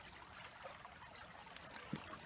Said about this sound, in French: Alors je vous présente le ruisseau avec de l'eau